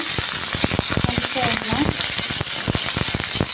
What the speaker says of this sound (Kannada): ಮತ್ತು ಇದು ಜೀರಿಗೆ, ಮೆಣಸು, ಮೆಣಸಿನ್ಕಾಯಿ ಇದೆಯಲ್ಲ, ಇದನ್ನು ಹಾಕ್ಕೊಳ್ಳಿ. ಅದನ್ನು ಸ್ವಲ್ಪ ಫ್ರೈ ಮಾಡ್ಕೊಳ್ಳಿ.